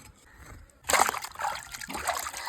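Tap water splashes and trickles over chicken leg pieces being rinsed in a kitchen, starting abruptly and running in close, uneven gushes.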